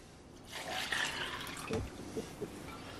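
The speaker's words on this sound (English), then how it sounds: "And I'm going to add 2 cups of water." Two cups of water are poured over half a pound of dried lima beans in a plastic deli container, a short, soft, close gush followed by a few faint trickles.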